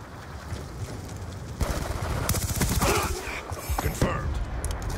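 Rapid Battlefield 4 gunfire cracks out in bursts and then turns into sustained rattling volleys, mixed with excited voices talking.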